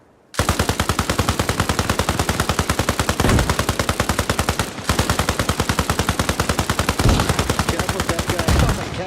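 Arma Reforger video game combat: a loud, rapid, evenly paced machine-gun stream fires almost without pause for nearly nine seconds, with a couple of brief gaps and heavier thumps like a frag grenade going off nearby.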